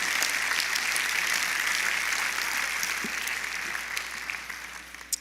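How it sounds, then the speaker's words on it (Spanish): Church congregation applauding after a sermon, a steady dense wash of clapping that holds for several seconds and then slowly thins out, with no talk over it. "de un aplauso al Señor, que Él se lo merece."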